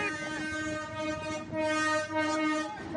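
A train passes close by, sounding a loud, sustained horn made of layered tones, with one short break partway through, over the rumble and rattle of the railcars.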